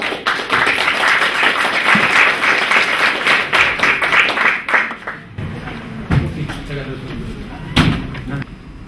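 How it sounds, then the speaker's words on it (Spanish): An audience at a literature and film conference on Argentine crime fiction applauds a speaker. Steady clapping fills the first five seconds, then fades to a few scattered claps and knocks under quiet talk. "Así que lo despedimos con un aplauso."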